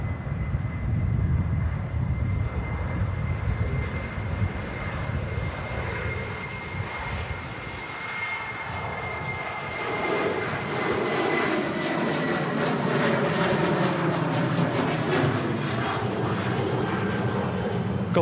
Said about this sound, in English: really early and fast rotation again from the TUI 737